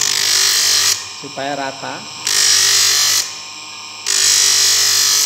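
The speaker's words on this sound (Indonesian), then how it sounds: "Kita amplas di yang atas dulu, teman-teman, seperti ini" A power tool sanding the top of a handmade men's ring of brass, copper and white alpaca, a loud steady high whir that cuts out twice, with someone speaking briefly in one gap.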